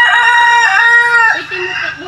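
A loud rooster crows up close, one drawn-out call that wavers and drops in pitch toward the end.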